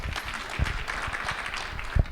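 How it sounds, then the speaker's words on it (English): A concert audience in Memphis claps briefly, a short burst of mixed hand claps at moderate loudness with a couple of heavier thumps near the mic. "round of applause for Ted."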